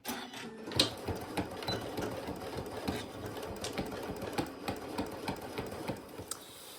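Sewing machine stitching and back-tacking a seam on a fabric project, a steady close mechanical whirr with rapid needle ticking and brief changes in pace, running alone without talk.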